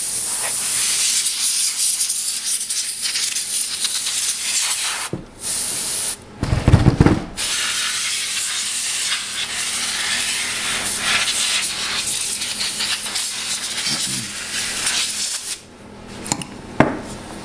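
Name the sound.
spraying out an amplifier circuit board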